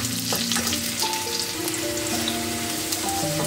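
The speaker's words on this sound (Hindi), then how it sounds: "इसमें हम थोड़ा सा हींग डालूंगी मैं" Onion sizzles and fries with asafoetida in a hot pan, a steady close crackle with light stirring and small pops, heard alone without talk.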